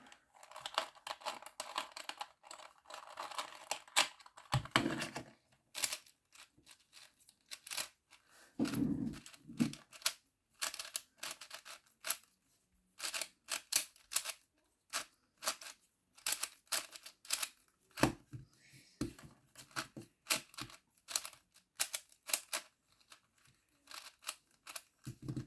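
Several Rubik's cubes are scrambled by hand, a long run of rapid plastic clicking and clattering turns in irregular bursts with brief pauses, close and crisp, no speech.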